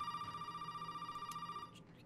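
A telephone rings in the Resident Evil 7 video game, a steady pulsing electronic ring that runs for most of the moment and then cuts off, fairly quiet and with no speech over it.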